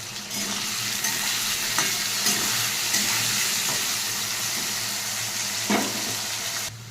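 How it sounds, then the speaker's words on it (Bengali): Cut potatoes with salt sizzle and crackle steadily in a hot pan, with occasional stirring scrapes and a brief louder burst near the end, close and continuous without any talk. "নুন দিয়ে আমি আলুটাকে ভেজে নিচ্ছি।"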